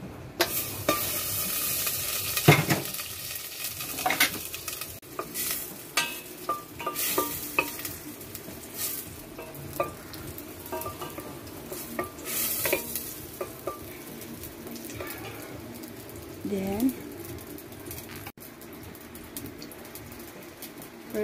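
Butter and garlic sizzling in a pot for chili garlic shrimp, a continuous close crackle broken by frequent stirring knocks and pan clinks, moderately loud and without any voices.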